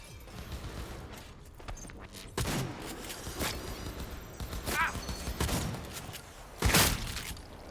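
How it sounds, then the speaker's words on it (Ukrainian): Bursts of gunfire in the video game Cyberpunk 2077 crack out in quick volleys amid mechanical clatter and thuds, sounding close and fairly loud. "Я тебе зараз знайду. Постріляю."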